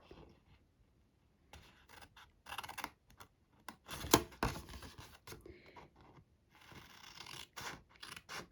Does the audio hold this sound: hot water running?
no